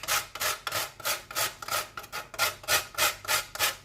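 Whole nutmeg scraped against a grater for fried rice seasoning, a steady run of about a dozen rhythmic rasping strokes, close and fairly loud, with no talking.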